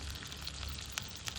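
Chopped onion frying in hot oil with mustard seeds, cumin and coriander powder over a wood-fired stove, a faint steady sizzle and crackle with a few sharp pops.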